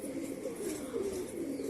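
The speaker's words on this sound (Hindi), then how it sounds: "ये मेरे अपने कबूतर हैं।" Pigeons coo softly in a low, rolling murmur that runs continuously, faint and slightly distant, with no one speaking.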